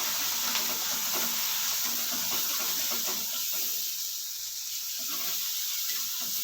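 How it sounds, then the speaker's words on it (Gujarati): Ground ginger, green chili and garlic paste stirred in hot oil in a pan, a continuous bright sizzle with soft scraping stirs throughout, close and steady. "એમાં આદુ મરચાં અને લસણ જે વાટ્યા હતા એને આપણે મિક્સ કરી દઈશું"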